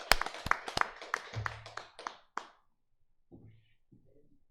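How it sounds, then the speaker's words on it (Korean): A church congregation at a Sunday Full Gospel service claps in thanks, a burst of sharp, distinct claps in an uneven rhythm that fades out, followed by quiet murmurs and a short voice. "우리 하나님 앞에 감사 박수 올리겠습니다"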